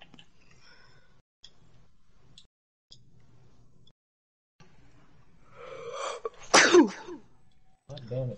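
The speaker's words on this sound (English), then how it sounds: "Damn it, stop sneezing." A person sneezes once loudly and close by, preceded by a wheezy intake of breath, after quiet, sparse sounds and brief murmurs, with a short voice starting right after.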